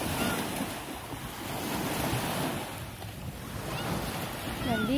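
Sea waves washing onto a beach in the early morning near a pier, a continuous surging wash with gusts of wind on the microphone; no talk is heard.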